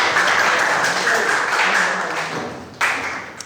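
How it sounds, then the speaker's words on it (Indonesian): A classroom of students claps for a classmate named Mahendra, with a steady burst of applause that fades, then a short second flurry near the end. "kasih tepuk tangan dulu untuk Mahendra."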